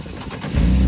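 GMC Jimmy engine catches and settles into a steady low idle, loud and close, after a brief stretch of cranking noise.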